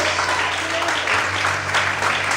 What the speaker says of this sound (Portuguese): Quantos podem aplaudir essa vitória, Senhor, nessa noite?